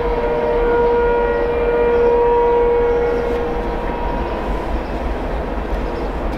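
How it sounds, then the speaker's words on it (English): A loud train rumbles past at close range, a heavy continuous roar with a sustained horn-like tone that swells and then slowly eases, no voices. "Train to go by."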